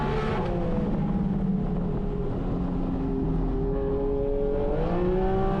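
Porsche 718 Cayman GT4 RS at racing speed on a track, its engine note rising and falling steadily through corners and braking with harmonic whine, loud and continuous with no talk.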